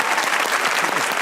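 Studio audience applause for a singer on a Pakistani comedy talk show, a dense burst of many hands clapping together, loud and steady throughout a brief moment with no talking.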